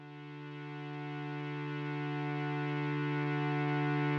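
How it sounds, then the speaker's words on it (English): Bright, buzzy synth chord recorded from a Behringer Model D analog synthesizer, a dense sustained drone that swells gently in loudness and holds steady, heard alone. "I've used this sound source called Slim Chord, which I believe I recorded from my Behringer Model D"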